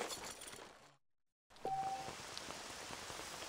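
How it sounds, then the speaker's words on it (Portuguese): Steady rain in the video game Red Dead Redemption patters over a wash of noise, cutting out briefly to silence before resuming at the same even intensity. "tá chovendo desde o início"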